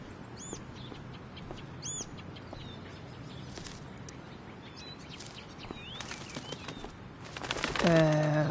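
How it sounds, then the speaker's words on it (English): Birds call in the game Life is Strange: Before the Storm: a few sharp chirps and tweets ring out early over a quiet ambient bed, with scattered faint rustles, before a louder tonal cry rises near the end. "Elitist Blackwell bird."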